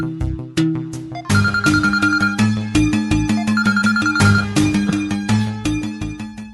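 A phone ringtone plays as a loud melodic tune with steady repeating notes, continuing for several seconds without any voices.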